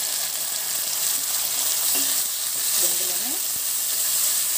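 Finely chopped tomato pieces frying in oil with salt, a dense steady hiss of sizzling with a few faint clinks from a utensil, close and continuous.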